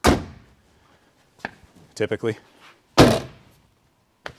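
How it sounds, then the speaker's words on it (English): Mazda Miata car doors, fitted with sound-deadening insulation, close with two solid, muffled thuds about three seconds apart. A voice speaks briefly between them, and a faint knock follows at the end. "You can also tell when you close the doors"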